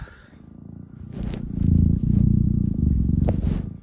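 A cat purrs up close, a low rhythmic rumble that swells and stays steady, with a few soft rustles and scrapes over it.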